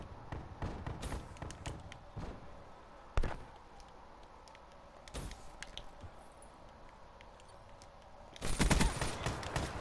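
Shotgun blasts in a video game: sharp, loud shots ring out singly at scattered moments, with a heavier cluster near the end over a constant background of game noise. No one talks.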